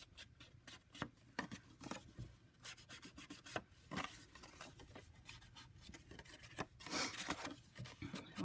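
Ink is dabbed onto a folded paper envelope pocket, giving quiet close scratchy rubbing and tapping sounds in uneven bursts, with a slightly longer scuffing stretch near the end.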